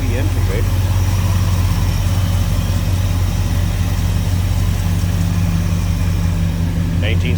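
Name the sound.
1965 Chevrolet El Camino engine idling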